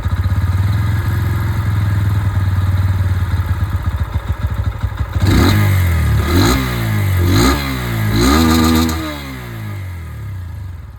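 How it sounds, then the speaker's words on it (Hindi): Bajaj Pulsar N125 motorcycle engine running up close, a steady throbbing idle that breaks into several sharp revs with rising and falling pitch, loud and alone. "और अब मैं आप लोगों को यहाँ पर जो पल्सर N125 है उसकी आवाज़ सुना दूँ।"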